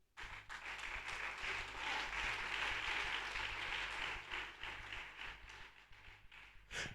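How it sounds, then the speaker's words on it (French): A church congregation applauding, a dense sustained wash of many hands clapping that holds steady for several seconds before thinning out near the end. "Acclamez pour le Seigneur."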